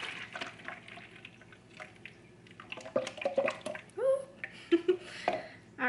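Liquid poured into a bowl for challah dough gurgles and splashes up close in short bursts, with bubbly glugs toward the end; no one speaks.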